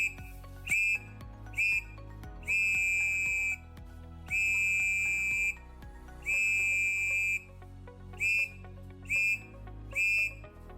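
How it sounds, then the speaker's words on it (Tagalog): A handheld whistle blown in a series of sharp, high blasts as a distress signal, several short bursts with a few longer held ones, loud and close with quiet gaps between and no talking. "Pumito ng 3 maiksing tunog gamit ang iyong pito."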